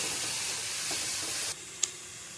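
Carrot and shredded cabbage for momo filling fry in a hot pan with a loud, steady sizzle that drops off suddenly, followed by a single sharp clink of a utensil.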